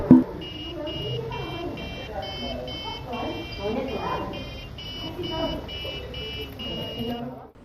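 An RFID access system's buzzer sounds a series of steady electronic beeps through most of the stretch, under continuous talking and room noise.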